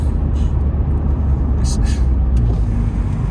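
A Vauxhall Zafira GSI with a stage 2 remap, on its stock engine, actuator and injectors, pulls hard with a loud, deep, continuous rumble heard from inside the car, while a voice talks over it.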